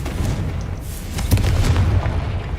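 In Hogwarts Legacy, a Confringo blasting spell sets off deep booming explosions, heavy rumbling bursts that keep rolling through the whole moment, loud and close, with no voices.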